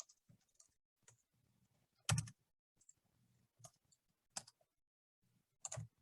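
Typing on a computer keyboard to enter results details, with scattered key clicks and a few louder bursts of quick strokes, close and quiet with no talking.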